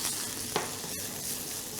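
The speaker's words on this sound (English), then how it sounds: "So I have my sprouts here cooking." Brussels sprouts fry in a pan with a steady, close sizzle and one brief stirring scrape, no voices over it.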